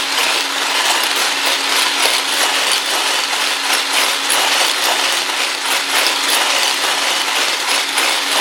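Pound cake batter with baking soda, cardamom powder, baking powder and a pinch of salt is whisked, giving a loud, steady whirring rattle that runs unbroken throughout with no talking.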